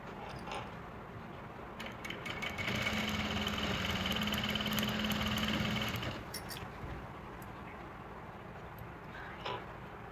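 A sewing machine runs in a steady whirring burst for a few seconds while stitching a salwar cuff, preceded and followed by quieter handling noise.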